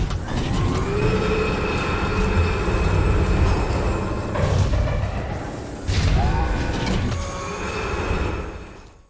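Rumbling train from the video game Jak 3 in Haven City, a steady mechanical roar with wheel squeals and clanks, loud and close, fading briefly midway before resuming.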